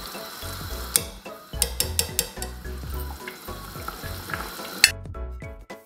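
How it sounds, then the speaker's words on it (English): Pumpkin and fermented leafy green dal cooking in a pot while being mashed, with soft sizzling bubbles and repeated knocking, squishing strokes against the pot. "Mash the mixture one last time to make sure there is no big chunks of pumpkin"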